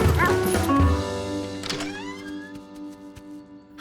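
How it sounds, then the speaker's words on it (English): Cartoon dog barks a few times right at the start, close and fairly loud, followed by a sustained musical score with tonal instrument lines through the rest. "When he heard her bark,"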